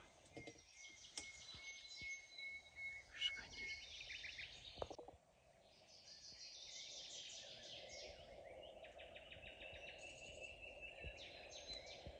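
Birds chirp and sing outdoors in a damask rose field during a morning rose harvest, with repeated tweets and calls over a steady background of insect buzz, no talking.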